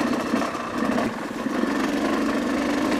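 A Yamaha YZ250X two-stroke dirt bike in fifth gear on a fall trail in Colorado, its engine giving a continuous, loud, buzzing drone with a steady pulsing rhythm and no talk over it.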